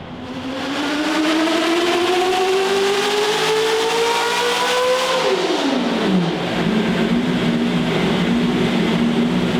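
A manual C8 Corvette drift car's engine revs hard on a dyno, pitch climbing steadily in a loud pull before dropping sharply off throttle and settling into a steady, lower rev hold, with no talk.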